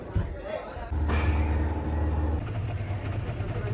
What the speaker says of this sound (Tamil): இந்த போட்டோட இன்ஜினு ரொம்ப பிரம்மாண்டமான இன்ஜினு.